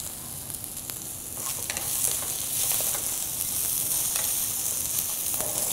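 An herb pork chop fries in a pan, giving a steady close-up sizzle with scattered sharp pops and crackles that grow a little louder after the first couple of seconds.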